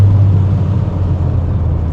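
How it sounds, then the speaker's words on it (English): A 1993 Geo Prizm slows under braking, its low, steady engine drone and road rumble filling the cabin at constant loudness, with a strong low hum throughout and no voices. "Now I'm going to hit the brakes. Slowing it way down."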